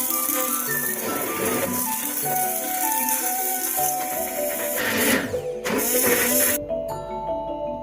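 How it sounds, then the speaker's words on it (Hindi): A hand beater grinding cooked minced meat for Lahori shami burger patties gives a steady, loud mechanical whir and rattle that runs unbroken, then drops off near the end. "इसको हम हैंड बीटर के साथ ग्राइंड कर लेंगे।"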